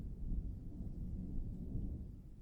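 Low, rolling thunder rumbles continuously in the distance, a deep steady growl with no other sounds.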